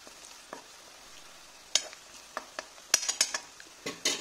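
Red chili powder and coriander powder fry briefly in a pan for a water spinach dish, a faint low sizzle broken by scattered sharp clicks and scrapes of a spoon against the metal.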